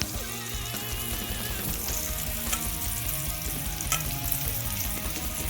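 Swedish meatballs fry in a pan with a steady, close, crackling sizzle that holds at an even loudness throughout, broken only by faint scrapes as they are stirred or lifted.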